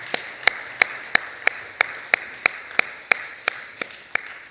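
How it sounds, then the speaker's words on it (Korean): Rhythmic clapping at a Sunday church worship service: about a dozen crisp, evenly spaced claps in a steady beat, fairly close and clear, with no talking over them. "앞에 영광의 박수 올려드리겠습니다"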